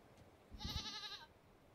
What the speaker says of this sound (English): Hello, Mr. Goat